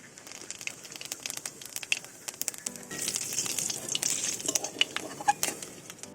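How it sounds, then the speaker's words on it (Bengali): Dried chilli, a bay leaf and cumin seeds fry in oil left from frying pomfret, a close crackling sizzle with sharp pops and spits that grows busier partway through. "মাছ ভাজা তেলের মধ্যে দিয়ে দেবো শুকনো লঙ্কা, একটা তেজপাতা, দিয়ে দেবো হাফ চামচ সাদা জিরে"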